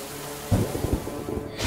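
Thunder sound effect in an animated fairy tale about thunder fairies creating a destructive storm, a sudden low rumble with rain-like crackle that rolls on briefly and then fades.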